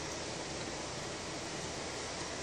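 Warm liquid heated on the stove with honey pours into a crock pot for Asian rice, a continuous rushing stream that holds steady from start to finish.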